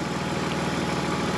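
Car with a BMW M52 TU engine idling, a steady continuous low rumble and hum with no talk over it.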